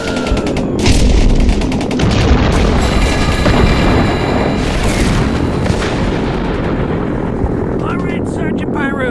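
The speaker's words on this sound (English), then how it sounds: "Rapture by Dominator Fireworks" Rapture fireworks by Dominator Fireworks going off on a street pad, loud booming bursts and rapid crackling volleys rolling on for several seconds, with a voice briefly heard near the end.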